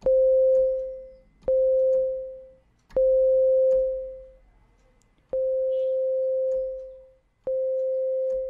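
Synthesizer tone shaped by an ADSR envelope: five separate mid-pitched sustained notes with sharp attacks, each holding briefly before decaying or cutting off, alone with no voice.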